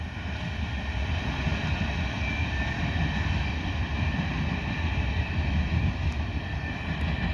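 A short freight train rumbles steadily past at night, a continuous loud low roar of rolling wagons with faint squeals on top as the rear end carrying a blue end-of-train device goes by.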